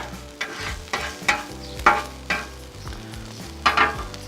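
Food sizzles on a Blackstone griddle beside vegetables, a spatula scraping and tapping in a loose rhythm of about eight strokes over a steady low frying hiss, close and moderately loud.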